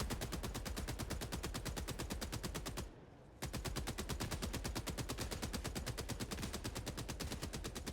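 Jar-5 Dominator rifle fired at Terminid bugs in Helldivers 2: rapid, evenly spaced shots in a long continuous stream with one short pause midway, faint and distant-sounding.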